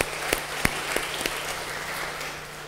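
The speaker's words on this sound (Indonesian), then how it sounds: "Kita berikan tepuk tangan untuk saudara dan saudara kita." Scattered applause from church members during a Sunday worship service, a few sharp claps standing out early before the clapping thins into a soft, roomy wash.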